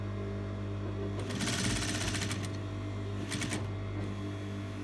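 A sewing machine stitches around a neckline with piping cord in two rapid bursts of rhythmic needle clatter over a steady motor hum, close and without talk.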